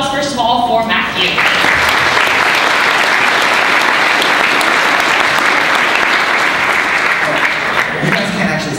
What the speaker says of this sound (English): So, round of applause, first of all, for Matthew.